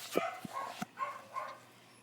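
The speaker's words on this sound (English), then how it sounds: "My dogs are barking." Dogs barking indoors in a home, heard as three or four short, sharp barks and yips spread over a couple of seconds, fairly faint and somewhat distant, with no talking.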